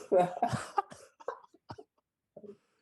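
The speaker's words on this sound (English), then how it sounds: "Who's coughing today?" A few coughs and throat-clearing sounds, close and moderately loud at first, then trailing off into softer, scattered bursts.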